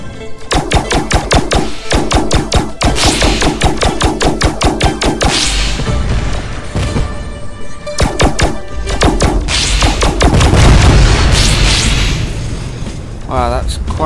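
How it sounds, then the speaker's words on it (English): Explosion in the space game HaB Tachyon: The Fringe, a loud sustained roar with rapid repeated booming pulses and crackle, mixed with game effects and voices. "Wow, that's quite an explosion."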